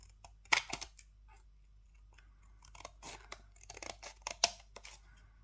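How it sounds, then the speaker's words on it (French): A piece of paper or card trimmed slightly smaller for a die-cut box, heard as soft, close snips and crisp cuts in short irregular bursts with quiet gaps and no speech. "je vais découper un petit peu pour que ce soit un tout petit peu plus petit"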